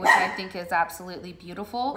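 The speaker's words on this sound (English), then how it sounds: "Sorry about my dog" A dog barks repeatedly in quick, close yips and woofs over the span of a few seconds, heard clearly under a person's ongoing speech indoors.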